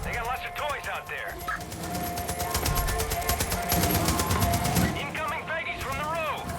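Rapid bursts of machine gun fire in the Far Cry 5 video game, peaking mid-clip, with game voices and radio chatter over the start and end.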